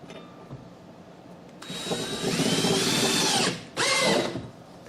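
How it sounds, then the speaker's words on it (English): A power drill drives self-drilling, star-head screws into hard oak, with two loud sustained bursts of whirring and grinding after a quiet start, separated by a brief pause. "These screws go in really easy in this oak."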